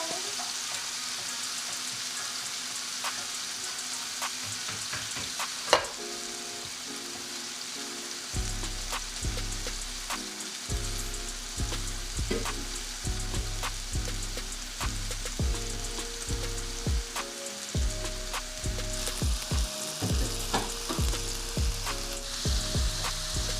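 Shrimp sizzling and frying in a home kitchen pan, a steady crackle that runs through the whole stretch alongside a low repeating hum, with no one speaking.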